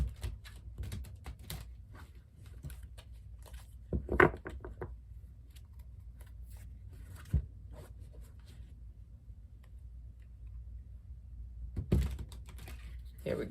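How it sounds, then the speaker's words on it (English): Tarot cards are shuffled by hand during a weekly reading, with soft scattered riffles and papery taps, quiet and close, separated by brief pauses and a few sharper bursts. "Of course, I want to do some shuffling first."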